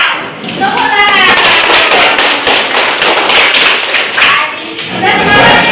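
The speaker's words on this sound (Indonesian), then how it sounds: "Tepuk tangan." A classroom of children claps their hands together on cue, loud, dense and close, with taps and thumps in a busy burst while voices are heard throughout.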